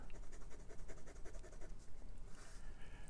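A Sailor 1911 Large fountain pen with a 21-karat gold medium-fine nib scratches softly across paper in a steady stream of faint, close strokes, with no voices.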